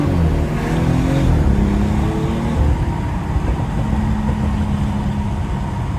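A 400 hp BMW 340i xDrive accelerating at half throttle on a rainy city street at night, a loud steady engine drone with rising harmonics and road and rain noise heard from inside the car, with no talk.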